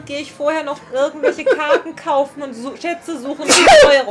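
A single loud, sharp sneeze bursts out near the end, preceded by steady German talk from someone commenting over gameplay.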